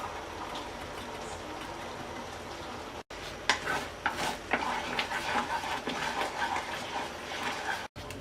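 Thick sauce for chicken Persian cutlets simmering and sizzling in a pan while a spoon scrapes and stirs it, steady bubbling with irregular clinks against the metal, close up.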